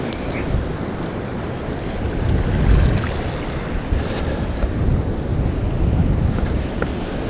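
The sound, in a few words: strong wind at the fishing spot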